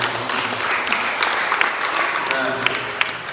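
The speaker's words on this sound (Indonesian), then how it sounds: "Tepuk tangan" Applause from a church congregation fills the space, a dense steady patter of many hands clapping under a faint murmur of voices, holding at an even level throughout.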